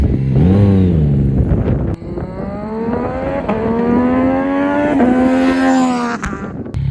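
A Yamaha R9 motorcycle's exhaust roars close by, revving up in strong rising sweeps, easing off, then climbing again across several seconds, with short throttle blips and sharp cutoffs between pulls.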